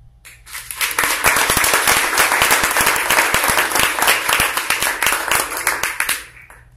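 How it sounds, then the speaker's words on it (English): An audience gives a round of applause for two bakers at a baking challenge event, dense clapping that swells quickly, holds steady for several seconds and then fades out. "please give a round of applause for Kate and Kim"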